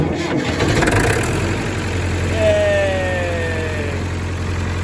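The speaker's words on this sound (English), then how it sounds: "So the next thing is to see if the tractor will fire up." A tractor engine starts up after its starter cable was replaced, settling into a steady low idle throughout, with a rising whine heard partway through.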